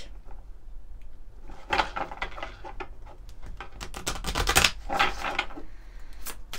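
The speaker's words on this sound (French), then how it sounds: "on va prendre juste quelques cartes des guidances de l'univers" Fairy-themed oracle cards shuffled and drawn, giving a run of close, crisp riffling flutters and snapping card slaps that swell in the middle and taper off.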